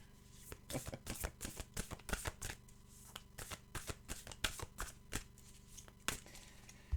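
Oracle cards shuffled by hand: quick, close, rapid bursts of papery riffling and slapping, repeated in short rhythmic runs with brief pauses, quiet overall.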